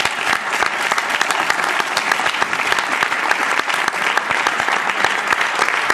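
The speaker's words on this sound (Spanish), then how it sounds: "Un aplauso." A festival audience at Sitges 2008 applauds after a talk with filmmaker Abel Ferrara, the clapping dense, steady and sustained from start to finish.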